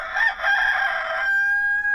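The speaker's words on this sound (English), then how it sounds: "The cockerel, the parrot," A cockerel crowing once, a loud, close, drawn-out cock-a-doodle-doo that holds a steady high note toward the end, heard alone.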